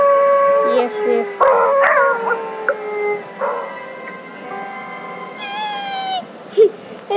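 Dogs howl and whine in long rising and falling tones, close and fairly loud, with a few short yelps mixed in and a higher wavering howl near the end.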